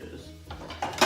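A metal lid is set down onto a pan of shrimp scampi on the stove, giving a few close clanks and a final louder clatter over a low kitchen hum.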